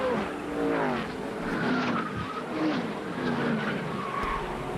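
Roaring NASCAR Cup race cars at Dover in 1997, engines wailing near and loud with tire skidding and a crash at over 190 mph, continuous dense racing noise throughout.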